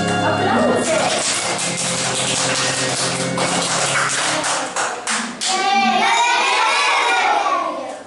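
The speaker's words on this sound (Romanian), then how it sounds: "Aplauze!" Applause and children's shouts from an audience at a school Mother's Day skit, a dense, loud wash of clapping with young voices cheering over it, briefly dipping before swelling again.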